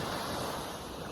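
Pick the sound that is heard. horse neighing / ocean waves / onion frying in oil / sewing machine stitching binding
ocean waves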